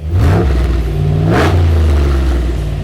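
A remanufactured Jasper LS V8 swapped into an '83 Jeep Scrambler revs hard and close, with two sharp throttle blips rising over a steady, loud, rumbling idle and no talking.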